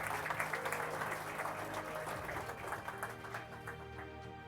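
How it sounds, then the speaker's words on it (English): A crowd claps steadily at an esports awards ceremony, dense and sustained applause filling the space before slowly thinning out. "One more round of applause, please"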